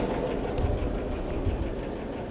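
An old diesel engine in a homemade boat runs at a steady idle, a continuous low rumble close by with no voices over it.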